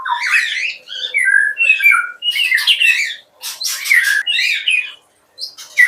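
White-rumped shama (murai batu) in a breeding setup, singing a loud, varied run of bright whistles, chirps and harsh squawks in rapid phrases with short pauses, close and alone.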